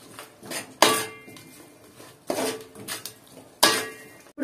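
A metal spoon stirs salt, chili powder and garam masala into an egg biryani masala in a pot, giving three sharp clanks against the pot with softer scraping between them.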